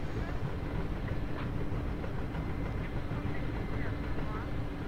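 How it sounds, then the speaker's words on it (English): The simulated helicopter in the DCS flight simulator game, heavily loaded and descending gradually toward an oilfield platform, gives a steady dense rotor and turbine drone throughout, with a person talking over it. "The helicopter's pretty heavy right now, so I just want to make a gradual descent in rather than trying to flop down on it."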